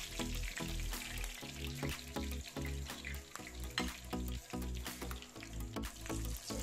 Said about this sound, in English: we'll fry and remove our last fish that couldn't fit